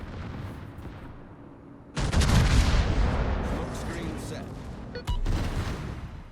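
A warship's naval guns fire a salvo in a warship battle game, with a heavy blast that swells into a long roaring rumble, followed by a second booming shot a few seconds later.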